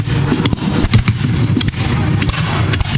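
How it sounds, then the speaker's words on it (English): Reenactors in a battle reenactment fire a ragged musket volley, the shots cracking in a rapid, uneven cluster of sharp, loud reports with booming echoes spread over a few seconds outdoors. "Good solid volley there from the American forces."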